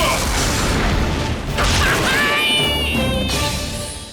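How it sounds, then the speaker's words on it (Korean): A cartoon robot fires a rocket punch in an animated sci-fi battle, heard as loud blasts and crashing impact effects in quick bursts, with a voice speaking briefly amid the noise. "로켓 펀치 발사."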